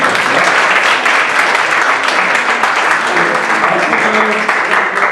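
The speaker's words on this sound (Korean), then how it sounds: "발표해 주신 분들에게 박수." An audience at a startup weekend final pitch event applauds the presenters after a Q&A, loud continuous clapping from many hands filling the room without a break.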